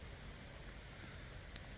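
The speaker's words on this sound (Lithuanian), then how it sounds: "Lyja, šlapia." Soft, steady patter of rain falling, a continuous low hiss with no voices.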